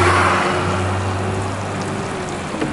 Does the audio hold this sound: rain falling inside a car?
yes